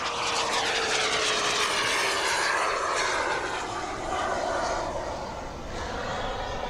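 An RC model jet passes overhead, a loud continuous turbine roar with a rushing hiss that sweeps slowly in pitch as it moves across the sky, alone with no voices.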